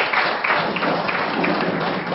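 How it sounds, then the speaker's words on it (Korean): An audience at a Korean political lecture applauds with a steady, dense wash of clapping that holds evenly for a couple of seconds, moderately loud with no voices over it. "그 의미에서 박수 한번 부탁드립니다."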